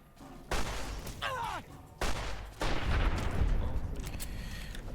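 Gunfire in the modded Fallout New Vegas video game: loud bursts of shots and booming blasts, with a short whistling zip between them and a sustained rumbling volley afterward.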